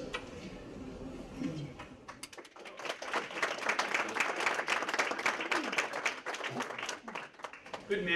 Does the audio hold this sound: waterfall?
no